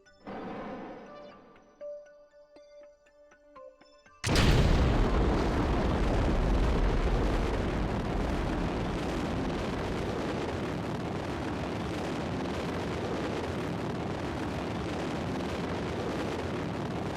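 After faint beeping tones of a game interface, a rocket engine in Kerbal Space Program RP-1 ignites with a sudden loud blast, then settles into a sustained, broad roaring rumble that continues steadily to the end.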